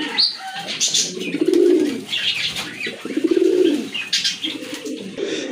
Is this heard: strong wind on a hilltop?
no